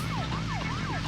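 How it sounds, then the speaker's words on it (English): Police car siren in a racing video game, a loud wailing tone sweeping up and down in quick repeated cycles over a low engine drone, heard close and continuous. "Excuse me, I have my sirens on"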